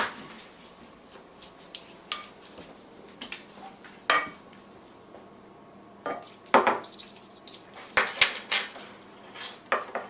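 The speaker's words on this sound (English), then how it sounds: "heat this on the stove and whisk it with a whisk until it's thick" A whisk working a thickening sauce in a pot on the stove for a grape dessert, sounding as irregular metallic clinks and scrapes against the pot, some sharp and loud, with quiet gaps between.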